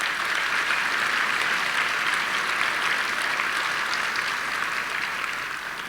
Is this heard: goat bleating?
no